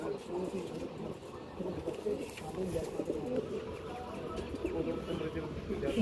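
Malwai pigeons cooing in a loft, soft low coos repeating at close range over a faint steady background hiss, with no other sound standing out.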